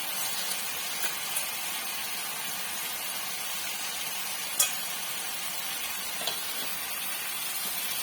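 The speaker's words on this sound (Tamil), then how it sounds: "இப்ப கிளீன் பண்ணி வச்சிருக்க நண்டை இதுல போட்டுக்கலாம்." Steady hissing sizzle of cleaned sea crab frying in masala, continuous and fairly loud, with occasional faint clicks and no voices.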